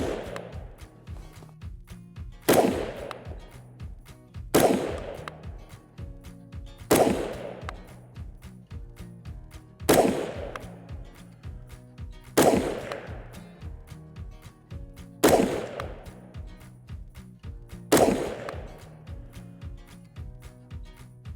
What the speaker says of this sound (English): Just finished up shooting the X2 Dev ARX LightFighter.